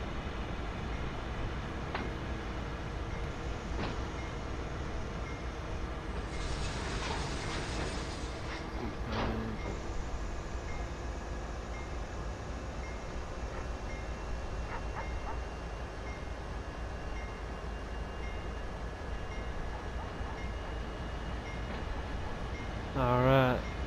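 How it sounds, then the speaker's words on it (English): Freight train coupling to railcars during CSX switching at Framingham on the Boston–Worcester route in Train Sim World 5, a steady rumbling rail drone with scattered clanks and a brief louder burst near the end. "It's a good approach when you're coupling to vehicles like this one on the railroad."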